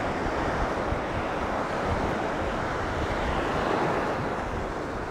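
Waves roll in at a river mouth on the coast in winter, a broad, steady roar of surf mixed with gusting wind buffeting the microphone, loud and continuous with no voices.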